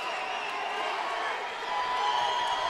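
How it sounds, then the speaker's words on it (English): An MMA event crowd roaring in the arena during a fight's closing seconds, a dense steady wash of cheering and shouts that swells slightly toward the end. "You hear the crowd starting to come alive for Ricky the Karate Kid STEELE."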